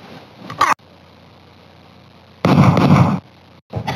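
A gunshot aimed at a bottle rings out in Mad Dog McCree, heard as a short sharp crack, then after a pause a louder, longer burst follows, with another brief hit near the end.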